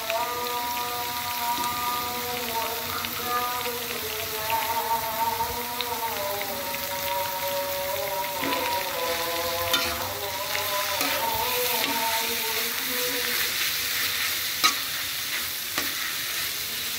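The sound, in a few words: steamed vegetables added to a frying pan for lumpia filling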